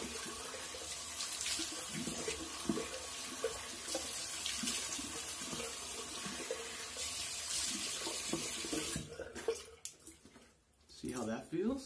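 A safety razor, a slant-head model, is rinsed under a running bathroom tap, with steady water rushing and splashing for about nine seconds before it stops, followed by a few clinks and handling sounds close by.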